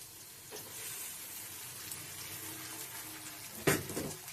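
Two eggs sizzling in oil and stirred with fried carrot and potato, a steady close frying hiss broken near the end by a sharp utensil clank against the pan.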